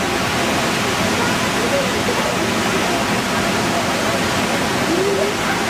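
Saraswati river in Uttarakhand surging beneath Bhim Pul, a natural stone bridge: a loud, unbroken roar of rushing water close by, steady for the whole stretch, with a faint voice barely showing through.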